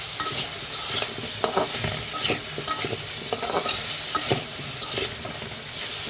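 Onions frying in a pan with turmeric and salt, a steady close sizzle broken by repeated scraping strokes of a spatula stirring through the mix, with no talking.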